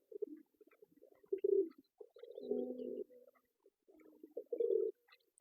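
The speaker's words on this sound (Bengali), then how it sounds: "এই কবুতরটা দেশি কবুতর আপনারা দেখুন" A native domestic pigeon in a cage coos close by in several low, throaty phrases separated by short pauses, with no voices over it.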